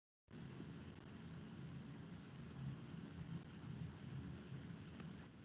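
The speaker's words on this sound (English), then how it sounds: "It started raining really hard and making lots of noise." Heavy rain falls outdoors in a steady, low, rumbling wash of noise that starts suddenly and continues evenly, quiet and distant-sounding, with no voices.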